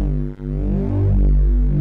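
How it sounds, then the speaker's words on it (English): A single sustained synth bass note in Ableton, deep and steady, humming continuously for a couple of seconds with a brief dip near the start. "the original bass signal sounds like this"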